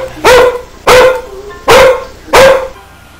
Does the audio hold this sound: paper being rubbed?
no